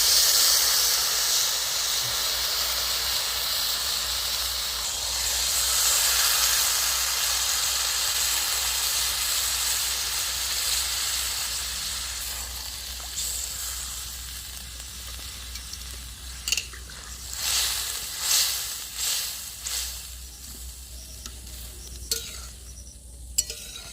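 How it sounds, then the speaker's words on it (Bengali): Water poured into a hot pan of jackfruit seed curry with poppy seed paste hisses and sizzles loudly at first, then settles into softer bubbling with a few stirring clatters near the end. "কাঁঠাল বিচিটা কষানো হয়ে গেছে, এবার আমি জল দিয়ে দেবো পরিমাণ মতো।"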